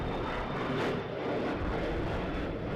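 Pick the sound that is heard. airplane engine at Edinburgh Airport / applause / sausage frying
airplane engine at Edinburgh Airport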